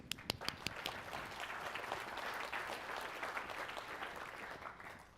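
An audience at a corporate culture talk breaks into applause, a few sharp claps at the start swelling into steady crowd clapping that holds for several seconds before tapering, with no talk over it.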